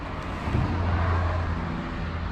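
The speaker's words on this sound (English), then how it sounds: "sorry about the traffic noise" Steady road traffic rumbles nearby, with cars passing in a continuous low wash of engine and tyre noise and no talking.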